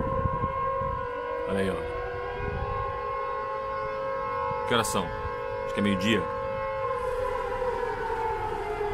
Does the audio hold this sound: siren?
yes